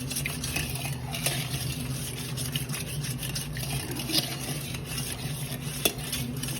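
Spoon stirring a mango sago mixture until the sugar dissolves, giving a steady run of soft scraping and clinking against the bowl with a few sharper taps, close and alone.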